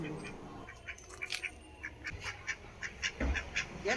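Farm ducks quack in a string of short nasal calls, coming faster toward the end, moderately close against a quiet outdoor background.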